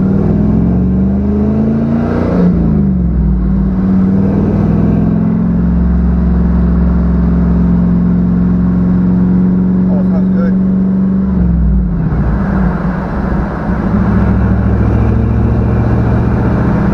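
An LS-swapped GMC Sonoma truck rumbles steadily while driving through town, a deep loud engine drone with rising and falling pitch as it accelerates and settles, heard from close inside the cab with someone talking over it.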